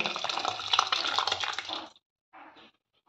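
Cooked yellow pumpkin kootu pours into a vessel with a close, wet splashing gush for about two seconds. A short second splash follows after a brief silence.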